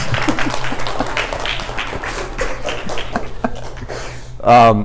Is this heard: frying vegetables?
no